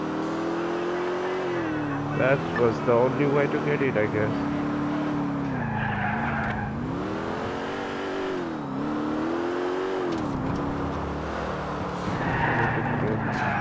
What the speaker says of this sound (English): I got myself a car. Yay, police car.